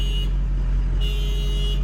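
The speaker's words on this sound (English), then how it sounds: "this poor car across the street's already going off" A car alarm across the street sounds in two pulsing bursts, fairly distant, over the low steady idle of a nearby engine.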